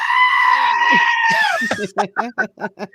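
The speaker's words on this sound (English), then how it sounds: "now the new transition goat" Loud, close goat bleats used as a comedic transition sound effect: a long wavering cry followed by a run of short, rhythmic bleats, heard alone.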